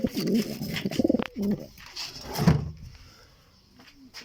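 Pigeons cooing in a rooftop loft, a pair of low throaty coos close by with wing flutters and soft rustles, followed by quieter calls fading away.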